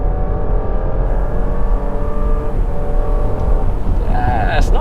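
A 2019 Porsche Cayenne Coupe accelerating in third gear with paddle shifting, a loud, steady engine drone heard from inside the cabin with rising pitch toward the end, and a voice speaking over it.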